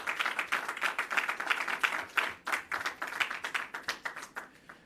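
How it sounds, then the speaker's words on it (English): An audience at a medical equipment handover ceremony in Jamaica gives a round of applause, with fairly close, scattered individual claps in an uneven, moderately loud patter that thins toward the end, with no voices. "I would certainly give them a rousing Jamaican round of applause."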